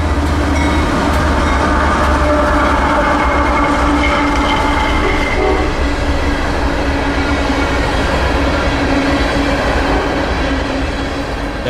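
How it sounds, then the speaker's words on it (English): A loud freight train rumbles steadily past close by at about 50, wheels and cars roaring continuously with a faint sustained horn tone riding over the noise. "He gives a few honks on the horn to make sure anyone on any adjacent tracks knows he's here."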